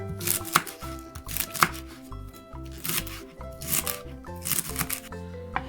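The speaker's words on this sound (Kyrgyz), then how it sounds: "Укроп менен райханды майдалап туурап алабыз." Dill and basil chopped finely with a knife on a board for a cabbage salad, giving quick irregular bursts of close, crisp chopping strokes with brief pauses and no talk.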